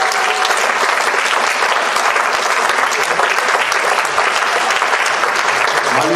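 A congregation at a prayer vigil claps in loud, sustained, dense applause for several seconds, with voices mixed faintly into the crowd noise.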